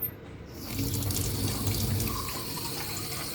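Water running from a tap as it is added to flour for Jamaican fried dumplings, a steady close splashing stream lasting the whole moment.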